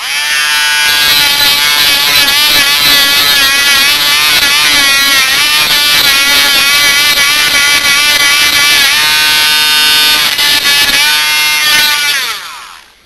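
A Dremel rotary tool grinding a stud off a LEGO brick, a loud, close high-pitched whine with wavering pitch as it bites into the plastic, running steadily for about twelve seconds before winding down.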